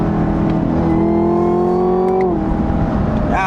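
Loud, continuous in-car engine roar from a Camaro ZL1 accelerating in 4th gear, pitch climbing steadily before dipping as it lets off, then carrying on as a rough drone; nobody speaks over it.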